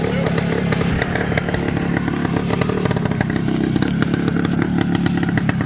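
A Yamaha RT3 motorcycle engine runs loud and close, a continuous buzzing, clattering two-stroke drone that holds steady throughout with no pauses.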